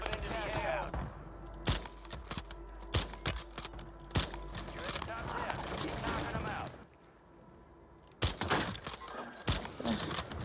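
In a video game, loud separate gunshots and short bursts crack out at uneven intervals, with a voice talking between and under the shots.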